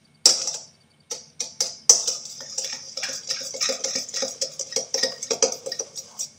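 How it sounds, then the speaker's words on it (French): A whisk or spoon works sugar and salt into a chocolate cream mixture in a bowl, making close, clinking strokes that start sparse and settle into a quick, steady rhythm. "Vous mélangez tout, le sucre, le sel, de façon à ce que ça soit"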